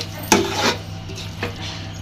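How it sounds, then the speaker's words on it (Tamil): Ginger-garlic paste being stirred in a pan while cooking chicken biryani: a sharp metallic scrape from the utensil, then a longer scraping pass and one fainter later scrape, close and alone over a steady low hum. "நல்லா கிளறி விடுங்க."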